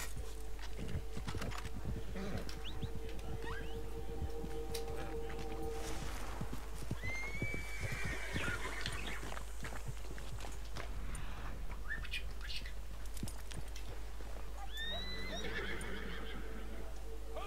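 A horse in the video game Red Dead Online neighs in several distinct whinnies over steady hoof clops and a constant low background hum, the calls fairly close and clear, with faint speech around them.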